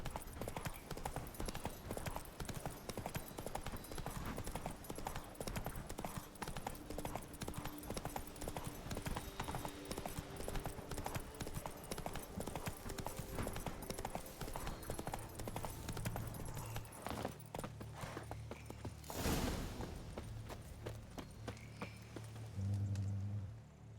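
Horse hooves clip-clopping in The Witcher 3: Wild Hunt Blood and Wine, a steady, fast rhythmic clatter that carries on throughout at moderate volume, then slows and fades near the end, with faint speech underneath.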